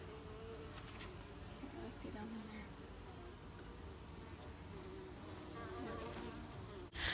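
Honeybees buzzing around a backyard hive in summer, a continuous close, droning hum with individual bees passing near, steady throughout, ending with a sharp knock.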